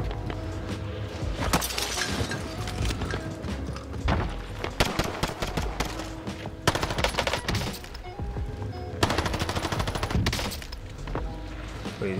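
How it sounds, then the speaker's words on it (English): Rapid video game gunfire from a submachine gun, repeated bursts of sharp automatic shots crackling in clusters with brief gaps, loud and close, mixed with breaking and shattering impacts. "Who's shooting?"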